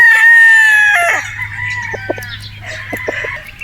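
A Boston Roundhead rooster, a brood stag, crows once in a long clear call close by, followed by softer clucks and short chirps from nearby fowl.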